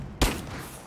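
A single sharp gunshot bursts out in the Rise of the Tomb Raider video game, a loud close crack with a booming low thump that decays into a short rumbling tail.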